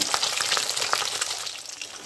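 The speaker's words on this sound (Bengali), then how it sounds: "কড়াইয়ের মধ্যে সব মাছগুলো দিয়ে দিয়েছি। এবার ভেজে নেব।" Close, fairly soft sizzling of katla fish pieces frying in hot oil in a wok, with small popping crackles scattered through a steady hiss and no speech.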